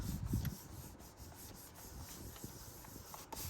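A layered paper card is rubbed by hand to press the layers flat, giving a soft continuous scuffing and brushing close by, quiet and steady with a few small bumps.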